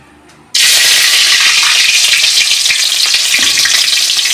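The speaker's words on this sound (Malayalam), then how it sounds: "ഇനി ഈ ലേശം കരിവേപ്പിൻ്റെ ഇല അതേമാതിരി വറുത്തിട്ട ഒരു ടേസ്റ്റ്." Curry leaves dropped into hot oil set off a sudden loud burst of sizzling after a quiet start, then a sustained, close, crackling hiss that stays strong to the end.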